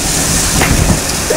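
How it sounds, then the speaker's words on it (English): Steam venting with a broad, steady hiss from a steam locomotive at the North Norfolk Railway heritage line, loud and continuous, with faint clanking from the train underneath. "I'm surprised to see that all that steam come out."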